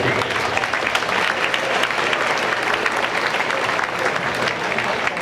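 Crowd applause fills a gym at a girls' regional championship basketball game between Hiland and Waterford, steady and dense clapping throughout with no voices standing out.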